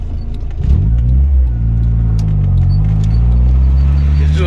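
Car fitted with a new motor and a blown turbo pulls hard in first gear, its engine droning loud and steady as revs climb with a rising pitch throughout, close to the listener.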